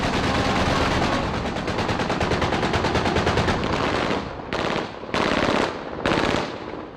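A long, loud burst of rapid automatic gunfire from rebels in Libya rattles continuously for about four seconds, followed by two shorter bursts separated by brief pauses.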